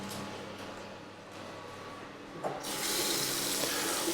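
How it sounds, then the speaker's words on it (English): Hot and cold water runs from a bathroom tap into a sink in a house in Oliva, Spain, a steady close hiss that swells louder and brighter partway through as the flow increases. "Hot and cold water."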